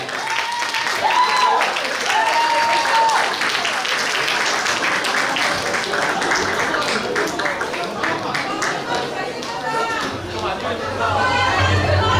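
An audience at a youth forum in Suncheon applauds steadily for several seconds, a dense continuous wash of clapping with crowd chatter mixed in.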